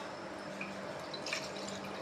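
Water poured into a large kitchen vessel to mix a cleaning solution, heard as a quiet, steady trickle with a few bright drips.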